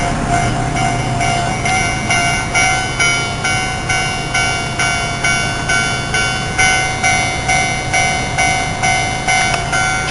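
A train rolls past close by during a trip in Japan, a loud steady rumble with rhythmic clickety-clack of wheels over rail joints repeating about twice a second throughout, with no voices.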